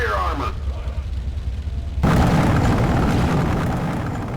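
Tank cannon fire in the war video game Conflict: Desert Storm 2, a heavy boom at about two seconds that gives way to a loud sustained rumble, with game sound and talk heard before it.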